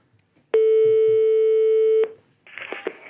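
A single steady telephone tone during a prank call sounds for about a second and a half, loud and alone, then cuts off and a faint voice follows.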